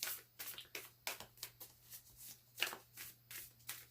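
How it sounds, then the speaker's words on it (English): Repeated riffling of a card deck, quick bursts of shuffling in a steady rhythm, close up, with a faint low hum underneath. "I'm just going to give these a little shuffle."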